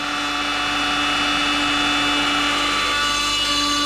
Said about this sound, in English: So I'm just using my die grinder,